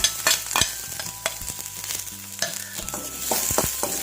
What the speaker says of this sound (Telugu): తర్వాత సన్నగా కట్ చేసిన ఉల్లిపాయ ముక్కలు కూడా వేసేసుకొని స్టవ్ని సిమ్లో ఉంచి వీటిని ఫ్రై చేసుకోవాలి